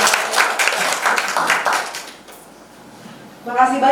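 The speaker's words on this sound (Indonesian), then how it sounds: "tepuk tangan yang meriah buat Mbak Keke" Applause from the audience at an Indonesian book launch, with a dense burst of clapping over the first two seconds that fades and thins out before a voice begins speaking.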